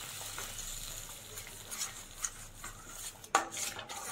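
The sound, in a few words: stirring and frying spice paste (masala) in a pan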